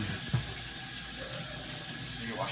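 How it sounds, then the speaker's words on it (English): A tap runs steadily into a sink during handwashing, a soft continuous stream of water with a brief splash near the start, heard alone at low level. "wash your hands."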